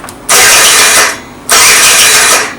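Suzuki Lets 2 scooter engine, which lacks power and chokes, being started twice in a row, each start a loud bursting whir that runs for about a second and then drops away.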